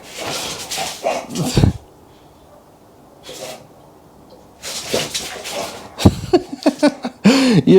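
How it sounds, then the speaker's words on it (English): A playful dog in a home workshop gives several loud, close barks and snorting sneeze-like huffs in bursts separated by quiet pauses. "I've got a silly dog down here that wants to play chasing torches."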